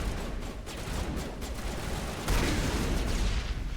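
Sci-fi gunfire from a Mass Effect firefight crackles in fast, dense bursts, rapid shots layered together, growing louder and heavier partway through.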